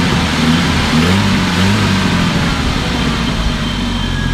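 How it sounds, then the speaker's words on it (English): A 1977 Datsun B210 engine revs loudly and steadily, close by, its hot-rod rumble rising and holding throughout. "we're gonna rev her up"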